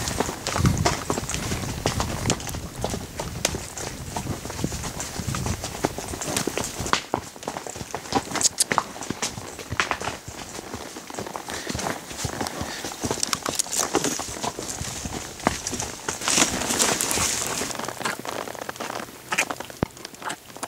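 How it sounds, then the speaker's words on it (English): Horses walk on a deer hunt, hooves clip-clopping in an uneven steady rhythm for about twenty seconds, close and fairly loud, with rustling and outdoor noise around them. "So anyway, we're just resting the horses."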